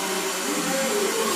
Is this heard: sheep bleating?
no